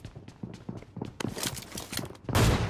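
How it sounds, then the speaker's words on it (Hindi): Shotgun fire in PUBG Mobile on a tablet, several sharp close blasts spaced irregularly among footstep-like thuds, ending in a heavy loud burst. "ये तो शॉटगन चला रहा है।"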